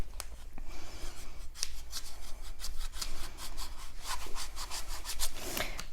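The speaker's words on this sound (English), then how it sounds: "Grab my squeegee." Squeegee pressed and rubbed over heat transfer vinyl on an aluminum bottle, a series of close, dry scraping and rubbing strokes with short sharp swipes, fairly quiet and without talk.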